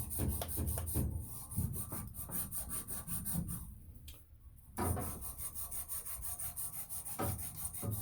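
Scrubbing and rubbing on a copper plumbing pipe in a bathroom, cleaning off debris before soldering: steady rasping strokes with a few brief pauses, close and fairly loud.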